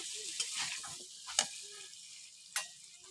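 Salt frying in a pan while being stirred, a faint, quiet sizzle with a few sharp scraping clicks spaced apart.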